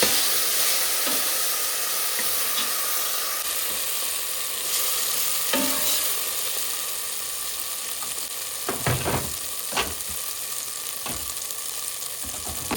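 Onions fry in a pan with green chili and curry leaves tossed in, giving a steady close sizzle and hiss punctuated by several sharper crackles and stirring scrapes toward the end.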